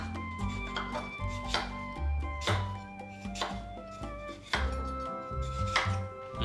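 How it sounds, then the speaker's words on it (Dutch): A knife chops melon pieces repeatedly against a board, sharp cuts at an irregular pace close by, over a soft musical background. "ik heb alle stukjes meloen gesneden"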